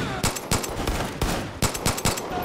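Gunfire in the shooter game Far Cry 5: loud, close bursts of rapid shots, several volleys in quick succession with brief gaps between them, and no voices.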